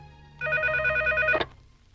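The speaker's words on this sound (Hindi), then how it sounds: "रिंग हो रही है।" A telephone in a Hindi-dubbed South Indian film gives one short burst of warbling electronic ringing, close and clear, then cuts off abruptly; no one speaks.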